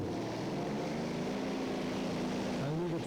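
Popeye, a Dutch champion pulling tractor with only the top and right engines working, drones at the 1997 Windenhof pull in France. The engine holds a steady, fairly distant tone that rises and wavers toward the end, with crowd noise underneath.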